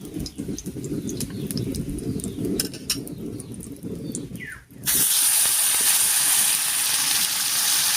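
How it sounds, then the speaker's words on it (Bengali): Chopped tomatoes hit hot oil already crackling with whole spices and cumin, bursting into a loud, steady broadband sizzle that holds close and constant after a quieter spell of frying. "এবারে কেটে রাখা টমেটো দেবো।"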